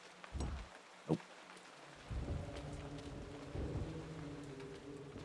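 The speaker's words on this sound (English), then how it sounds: "Like a rainy church with a chanting." In Eternal Darkness, rain patters steadily inside a church while deep thunder rumbles in a few low booms, one sharper crack standing out, and a low droning tone enters partway through.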